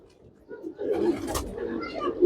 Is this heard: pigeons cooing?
yes